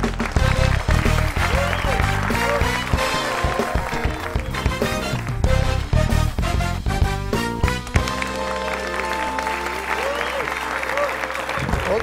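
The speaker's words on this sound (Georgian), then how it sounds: "აპლოდისმენტებით შევეგებო." A studio audience on a Georgian late-night show applauds to welcome a politician guest, with sustained dense clapping over loud music and crowd noise.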